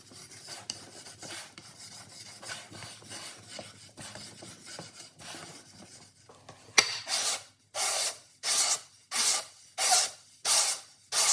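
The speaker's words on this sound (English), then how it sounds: "I use a technique of chalking the edge and then sanding and repeating this process" The edge of a wooden drum shell is rubbed and sanded by hand, first in soft, quick scrapes, then in louder, regular back-and-forth strokes, about eight of them, close up.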